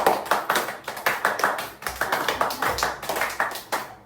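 A family at home claps loudly and steadily for Payal after she cooks lauki kofta in the kitchen, with quick hand claps repeating in an uneven rhythm for about four seconds and no talk.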